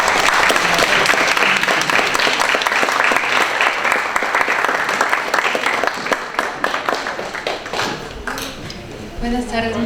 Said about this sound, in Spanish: le damos la palabra y un caluroso aplauso a la doctora